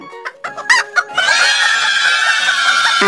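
Chickens cluck in short bursts before a rooster's crow rings out loud and close, holding steady for about two seconds, with no one talking.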